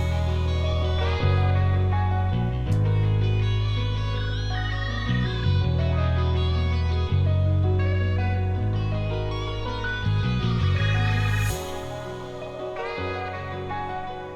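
A full street pain loop layers guitar, a deep Rickenbacker-style bass and a crash cymbal. Warm guitar notes ride over sustained bass, and a bright crash swells near the end as the bass drops out. It plays loud and steady, with no talk.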